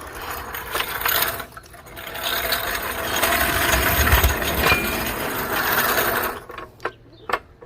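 A car jack lowers an Audi A4 Quattro, giving a close, irregular mechanical clatter of ratcheting and grinding that swells in the middle and ends in a few sharp clicks.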